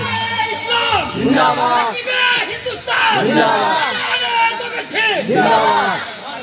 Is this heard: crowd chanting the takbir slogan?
yes